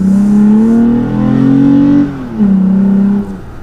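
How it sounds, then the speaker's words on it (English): A lifted third-generation Toyota Tacoma TRD Off-Road pickup pulls steadily as it accelerates from a stop, its low drone rising in pitch before a brief dip and a second climb as it shifts. "since we're at a stop here, we'll go ahead and accelerate a good bit"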